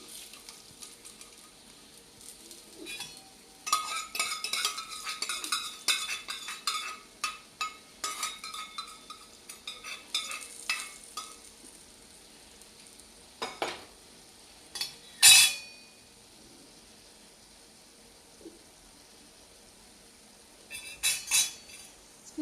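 A tempering for telagapindi curry is stirred in a pan, with metal utensil clinks and scrapes in irregular bursts over a soft, faint sizzle, plus a few sharper clatters near the end.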